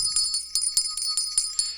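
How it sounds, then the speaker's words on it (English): A cheap, small plastic bell rung repeatedly, about eight bright tinkling strikes in quick irregular succession, close and clear with no talking. "So instead, I bought a bell on Amazon."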